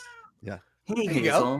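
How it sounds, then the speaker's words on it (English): A cat meows indoors, a short pitched cry followed by people talking close by. "That's a cat."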